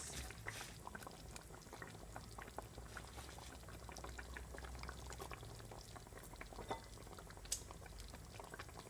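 Fish simmering in a coconut curry butter sauce, giving a faint, continuous bubbling sizzle with scattered small pops and no talking.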